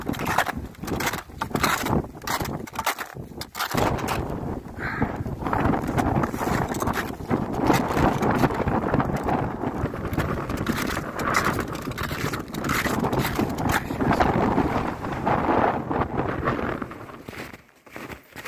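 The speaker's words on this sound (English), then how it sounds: "Just as windy as the real summit." Wind rushes across a snowy mountain summit on a January hike of Colden, a loud, sustained gusting roar with brief lulls and occasional buffeting thumps.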